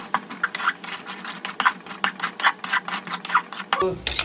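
Turmeric and spice powders stirred into masala in a pan for mutton semi-gravy, heard as rapid rhythmic scraping strokes of a spoon against the pan, close and steady, ending with a brief clunk.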